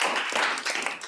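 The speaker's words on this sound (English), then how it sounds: "I think she's clapping." Clapping by a participant in a community work group meeting, a brisk run of hand claps filling the moment at close range with no talk over it.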